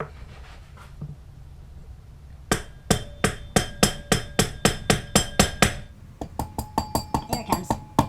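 Steady, evenly spaced blows of a dead blow hammer on a motorcycle engine head from a Honda CB125 K3, a dozen or more strikes in a row, close and loud, with a short pause midway.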